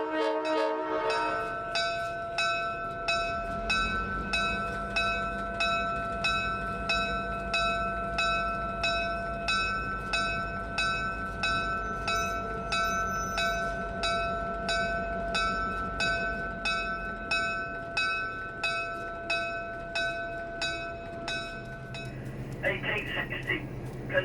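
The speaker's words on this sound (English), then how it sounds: "the train is ready to set out for the station to board for the first train ride." Museum train setting out with a long, steady horn blast over rapid, evenly repeating bell strokes that keep a regular rhythm for about twenty seconds, close and loud, ending with a short extra horn burst.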